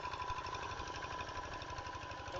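A Kubota RD 85 single-cylinder diesel engine drives an NS 80 water pump irrigating a rice paddy, giving a steady, fairly faint, rapid knocking chug with a continuous mechanical whine.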